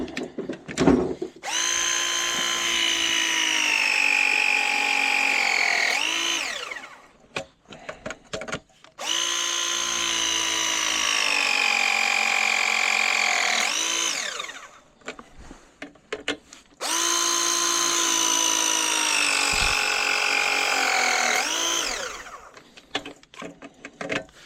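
Cordless power tool running in three long, loud, steady bursts during a sprinkler backflow installation, each spinning up and winding down with short quiet gaps between.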